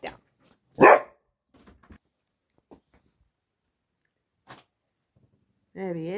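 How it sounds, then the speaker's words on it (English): A dog barks in short sharp bursts, close up, with a whine-like bark near the end; a person talks around the barks. "That's how he says hello, by the way, barking."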